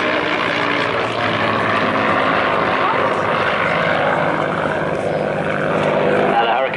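A Hawker Hurricane flies past at an air show on the seaside, its piston engine a loud, sustained propeller drone that swells slightly toward the end, with a commentator's voice partly audible over it.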